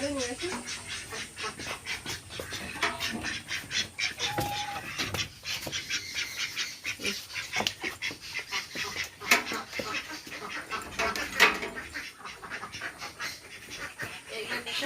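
Ducks quack and chickens cluck in a busy, continuous jumble of calls nearby, with occasional scratchy clicks and a faint voice now and then.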